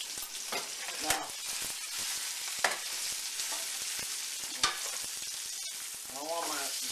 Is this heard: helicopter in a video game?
no